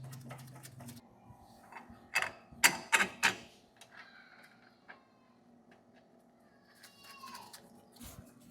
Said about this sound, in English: Then I'm going to install the driver's side lower bolt on the sway bar link